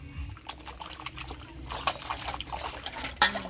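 Water runs and splashes while a boal fish is washed clean in a kitchen, a steady close trickle with uneven splashy bursts and a sharper spill near the end.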